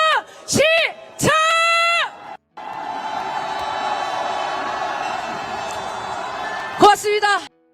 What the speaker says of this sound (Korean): 함성 질러보겠습니다